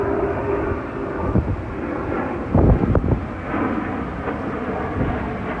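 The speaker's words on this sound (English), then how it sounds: "Then the juxtaposition of being in nature, but then always hearing planes fly by." An airplane passes overhead outdoors in a natural setting, a low broadband rumble swelling briefly around the middle amid steady wind buffeting the microphone.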